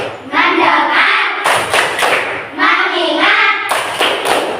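A whole class of pupils at MI Darul Akhlaq does the 'tepuk fokus' clap chant, chanting phrases in unison that alternate with sharp bursts of group handclaps, loud and near, in a repeating call-and-clap rhythm.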